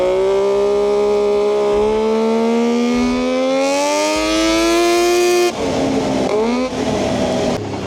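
A 140 HP sleeper ATV engine revving hard nearby, its pitch climbing steadily as it winds up, then dropping and surging again with a loud, continuous whine.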